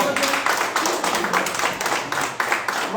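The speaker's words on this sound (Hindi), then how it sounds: "जोरदार तालियों के साथ" Audience applause at a political gathering where leaders join the BJP in Jammu and Kashmir, a dense, continuous clapping of a crowd, fairly loud, with voices mixed in.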